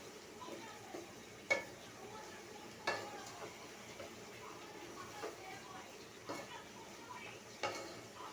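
A spoon stirs rooster curry made from a 3-4 year old home-raised desi rooster in a wobbly kadai. It gives faint, scattered scrapes and knocks every second or so over a quiet background, with a low voice present.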